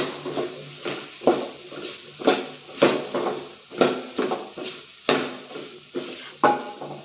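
A spatula scrapes and knocks against a pan while stirring a capsicum and egg fry seasoned with pepper powder: a rhythmic series of close, crisp scraping strokes about every half second.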